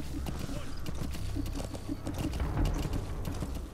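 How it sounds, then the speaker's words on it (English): Horse hooves clip-clopping in Metal Gear Solid 5: The Phantom Pain, a quick steady rhythmic trot of soft hoofbeats with game sounds and a voice talking. "No man, it's a horse. It's just a horse."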